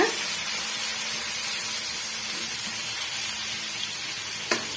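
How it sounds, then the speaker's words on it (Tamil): Onions and tomatoes sauté in a pan for potato rice, giving a steady, close sizzle and crackle throughout, with a faint stirring scrape near the end. "அது வரைக்கும் நம்ம வதக்கி விட்டுக்கலாம்"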